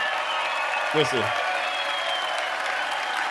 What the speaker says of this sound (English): Let's give that brother a round of applause.